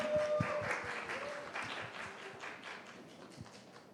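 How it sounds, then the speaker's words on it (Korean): A congregation at a youth Sunday service applauds as ministers come forward, soft scattered clapping heard at a distance in a large room, fairly faint and uneven, with a brief tone audible early on. "박수로 맞아주시면 감사하겠습니다"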